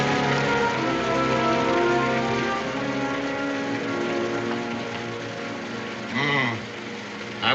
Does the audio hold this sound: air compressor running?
no